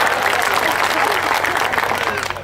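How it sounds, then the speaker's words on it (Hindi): An audience at a Hindi poetry recital breaks into dense, steady applause. Many hands clap close by, filling the whole moment, and the applause fades slightly at the end without any speech over it. "एक बार तालियों से आगे करिएगा"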